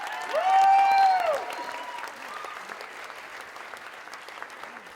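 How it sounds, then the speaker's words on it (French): Applause from an audience at a student college talent show, steady clapping throughout, with a loud tonal swell, likely music or a voice, over the first second or so before the clapping carries on alone at a moderate level. "joignez vos applaudissements aux miens afin de féliciter et de souhaiter la meilleure des chances à tous nos participants"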